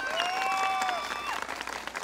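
An audience at a jaripeo in La Mojonera, Michoacán, breaks into a short burst of dense applause with cheering, loud and continuous, while a whistle-like tone and a voice carry over the crowd.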